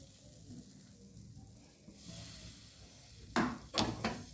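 Pitha batter for Bengali patishapta sizzles softly in a hot pan in a village kitchen. Two sharp scraping or stirring bursts from a utensil break through near the end.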